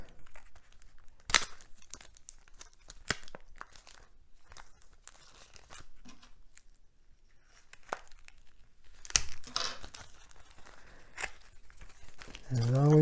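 Stamp package wrapped in heavy sticky tape being pulled and torn open: scattered crinkles, sharp tearing snaps and rustling, close by and mostly quiet, with louder tearing bursts near the middle and end.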